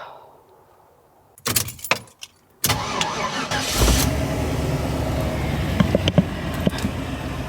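A car engine is fired up a second time, the squealing belt now gone: keys jangle and a short crank gives way to a steady, close idle that carries on to the end, with no speech.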